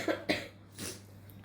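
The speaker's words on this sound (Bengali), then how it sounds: "কিছুক্ষণ কাশির আওয়াজ পেলে পাশে ছেলে শুয়ে শুয়ে কাশছে" A sick boy lying in bed nearby coughs twice in quick succession, followed by a softer breathy throat sound, close and fairly clear in a quiet room.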